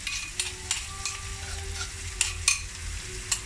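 Steak fries in melted butter in an ordinary home frying pan, a steady close sizzle with clinks and scrapes of a spoon basting, no voices.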